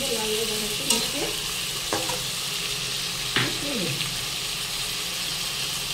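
Meat masala spice paste frying in a pan while being stirred, a steady close sizzle with a few sharp scrapes of the spoon against the pan, and a faint voice in the background.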